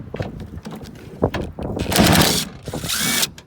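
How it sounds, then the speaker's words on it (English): Power tool rapidly spinning out two 10 mm tailgate handle bolts on a 2014–2018 Chevy Silverado/GMC truck, a close, loud buzzing whir in bursts that ends abruptly. "And then we basically have two 10mm bolts next."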